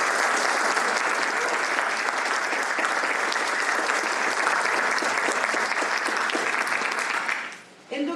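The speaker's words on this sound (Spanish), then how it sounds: "para quien pido un aplauso." An audience at an archaeology award ceremony applauds with sustained, even clapping that fades out near the end.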